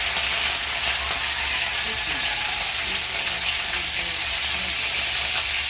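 Fish frying in hot cooking oil in a pan, a steady loud crackling sizzle that stays constant throughout without talk.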